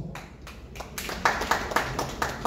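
An audience at a memorial gathering claps in a brief burst of close, fairly loud, rhythmic hand claps that grows slightly stronger.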